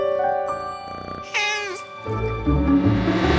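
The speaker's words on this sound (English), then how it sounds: "Is that meow a simple hello?" A cat meows loudly several times in quick succession, close by, its cries rising and bending in pitch over an underlying musical backdrop.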